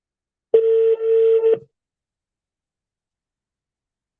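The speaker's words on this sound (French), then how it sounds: "Je vais appeler pour voir ce que ça va donner." A phone number is dialed on a telephone before an outgoing call: a clear, loud steady tone runs for about a second, then cuts off, followed by near silence.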